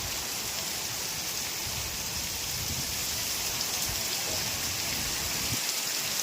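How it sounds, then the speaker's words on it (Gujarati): A heavy downpour of unseasonal rain in Chalala, Gujarat, roars evenly nearby, a thick unbroken hiss of falling water drumming on surfaces. "જોરદાર વરસાદ આવી રહ્યો છે"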